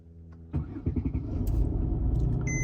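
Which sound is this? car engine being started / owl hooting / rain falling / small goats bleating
car engine being started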